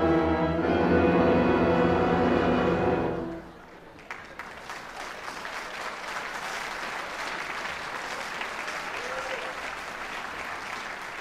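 An audience applauds after a few seconds of sustained instrumental music ends. The clapping is a steady, moderately loud wash that continues for about seven seconds, with no speech over it.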